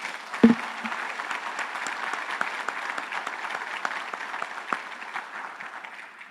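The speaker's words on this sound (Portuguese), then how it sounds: "Vamos aplaudir eles lá?" A church congregation applauds, a steady, fairly distant round of clapping filling the hall after a single louder knock at the start.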